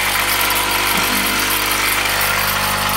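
A modified 1.5 horsepower electric motor runs continuously with a loud, steady hum and broadband whirring, close and unchanging throughout.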